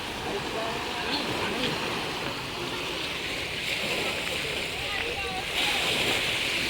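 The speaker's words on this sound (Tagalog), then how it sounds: "Dagat yan mga lodi." Sea waves washing on a beach, a steady broad hiss of surf with wind buffeting the microphone, moderately loud, as people talk nearby.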